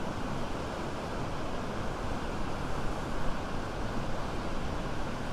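Steady low rumbling roar of water rushing through a drain pipe at a beach, continuous and broadband, fairly loud and unbroken for several seconds.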